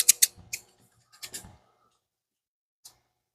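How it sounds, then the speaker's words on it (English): A few sharp snips of black cutters close by, quick crunchy cuts through a hose in a short burst, then a pause and one last faint snip. "Like a scissor. Black scissors, super black scissors."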